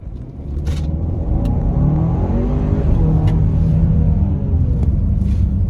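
A 2021 Kia Sorento SX X-Line Prestige SUV engine rises steadily as it accelerates from a stop sign, a loud, close rumble building in pitch over several seconds.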